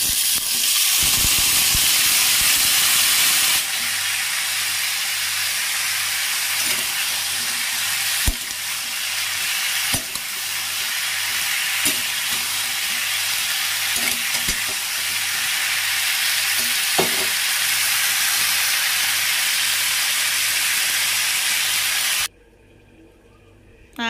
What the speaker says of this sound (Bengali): তেলটা গরম করে পেঁয়াজগুলো ভেজে নিচ্ছি